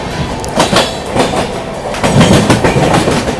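The Lucknow–New Delhi AC Superfast Express runs loud and close beside the Baba Baidyanath Dham Humsafar Express, with a continuous roar and a steady clickety-clack of wheels over rail joints.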